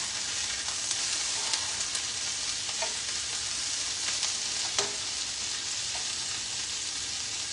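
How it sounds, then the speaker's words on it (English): Potatoes, onions and peppers fry in a pan for a hash breakfast bowl, giving a steady close sizzle with occasional soft pops and stirring clatter. "or our potatoes that are all frying up."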